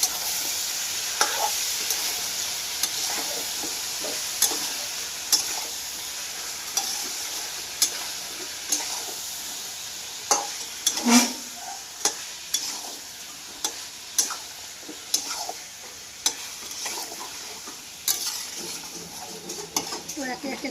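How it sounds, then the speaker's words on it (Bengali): Chicken being stirred in a pan with salt and turmeric, giving repeated scraping and clinking strokes over a steady soft sizzle throughout, fairly close with no talking. "পরিমাণ মতো লবণ, পরিমাণ মতো হলুদের গুঁড়ো, দিয়ে আমি একটু নাড়াচাড়া করে নেব।"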